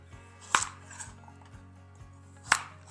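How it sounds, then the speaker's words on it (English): A knife slices carrots lengthwise on a cutting board, with two crisp, distinct cuts about two seconds apart over a faint, steady hum, close and quiet. "I'm just gonna cut them lengthwise"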